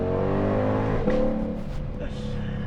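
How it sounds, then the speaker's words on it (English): A Ford Mustang Shelby GT500 engine revs and then drops off, with a couple of sharp exhaust pops during the downshift, and a voice talks over it. "when those downshifts come and you hear the pops and the crackles"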